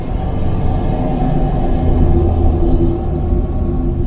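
A steady low rumble of road and engine noise fills the cabin of a Next Gen Ford Ranger at speed with the snorkel sock removed from its stainless snorkel, continuous and even throughout.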